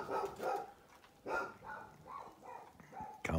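Dogs bark repeatedly at a moderate distance, a string of rhythmic woofs with a few yips, while a person calls to animals nearby.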